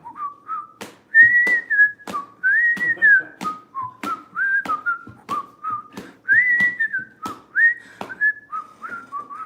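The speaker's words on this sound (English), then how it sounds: "That's a tough one to fucking whistle, man." A person whistles the Valkyrie melody in a series of sliding, warbling phrases, loud and close, with short breaks and sharp clicks between notes and no talking.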